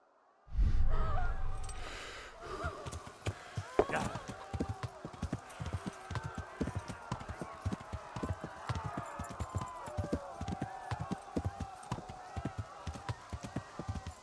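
Rapid rhythmic clip-clop of horse hooves at a steady gallop in the video game Kingdom Come: Deliverance, moderately near, preceded by a brief loud burst at the start.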